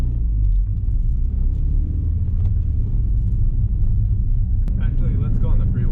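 A modded 2010 Honda Fit Jazz GE8 hums with a steady low road and engine rumble from inside the cabin while driving, someone talking over it toward the end.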